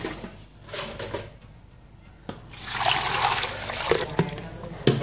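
Water runs and splashes into a vessel for soaking dried bamboo shoots, starting faint and then swelling into a steady close rush, with a few brief knocks and clinks.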